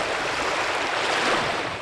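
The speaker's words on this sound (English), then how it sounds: "the serenity of the sound of water hitting the beach" Steady broadband wash of water lapping onto a quiet beach, continuous and fairly close, with no talk over it.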